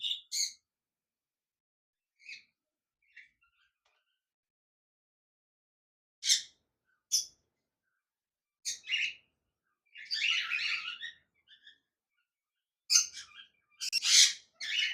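Cockatiels at a cockatiel breeding farm, including a pair of albino red-eye birds in a cage, give bursts of sharp chirps and short whistled calls. The calls come in scattered clusters between quiet gaps, and they grow busier and denser toward the end.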